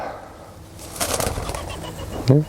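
A large pigeon takes off in a garden with a brief burst of flapping wings, followed by a short coo near the end, close by and otherwise quiet.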